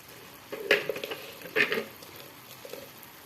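Food frying quietly in a pan, a soft steady sizzle broken by a couple of brief louder stirring scrapes and clinks.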